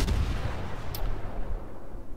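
Naval gunfire in World of Warships from a Tashkent destroyer firing at enemy ships, heavy low booms with one sharp crack near the middle, fairly faint and with no voices.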